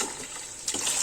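Cold tap water runs and gushes briefly for rinsing during preparation of Thai-style spring rolls with grilled fish, with a louder splash near the end and no talking.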